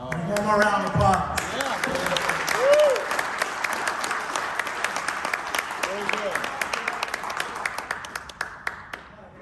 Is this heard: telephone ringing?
no